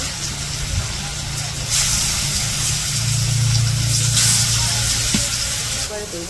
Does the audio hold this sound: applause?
no